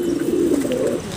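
Domestic China pigeons coo in a low, continuous rolling murmur, close by, with no voices over it.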